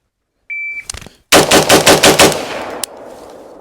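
Rapid string of rifle shots fired at a target on a range, about six loud close cracks in quick even succession after a short electronic shot-timer beep, then a final shot and fading echo.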